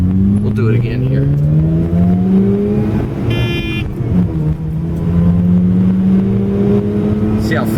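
A 1984 Mazda RX-7 GSL-SE with its rotary engine pulls hard through the gears, steady engine drone rising in pitch with each gear, sustained and close from inside the car, with speech faint beneath.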